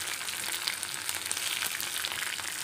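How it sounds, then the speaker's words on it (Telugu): Okra (bhindi) fries in a pan with a steady, bright sizzle, a close and continuous crackling hiss with small pops and no voices over it. "సో బెండకాయలు ఆల్మోస్ట్ ఫ్రై అయిపోయాయి, మీకు కనిపిస్తున్నాయి కదా"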